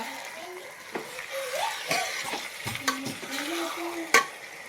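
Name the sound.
stirring chicken into curry in pan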